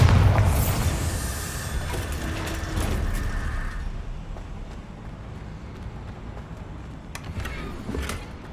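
A Bombarda spell going off in Hogwarts Legacy, a heavy booming blast with rumbling, mechanical debris noise that fades over several seconds, followed by a few faint knocks.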